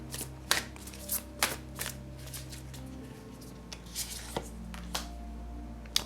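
Tarot cards handled and shuffled for one more pull, a run of crisp riffling snaps and soft slides repeating every second or so, close and moderately loud over a faint steady background tone.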